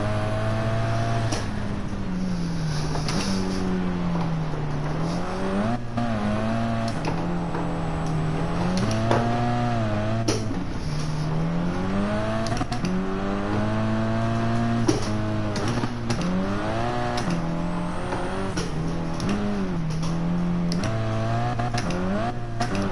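A car engine revs and accelerates in the racing game Gran Turismo 7 at the Colorado Springs track, its pitch climbing and falling steadily through gear changes, loud and continuous throughout.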